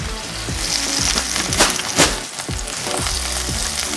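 Butter and Texas toast sizzle and crackle on a hot grill, a steady close frying hiss broken by a few scraping touches.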